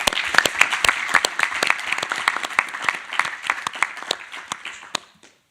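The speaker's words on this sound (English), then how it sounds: "So I request that we clap for him." Attendees at an advisory board meeting clapping in thanks for a colleague, a moderate group applause of distinct crisp hand claps that gradually fades and stops.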